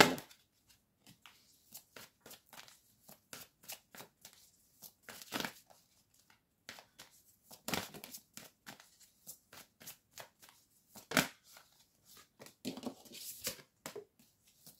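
Tarot-style cards for a reading are shuffled by hand, giving repeated quick riffling and slapping bursts in an irregular rhythm, close and fairly soft, with brief pauses between handfuls.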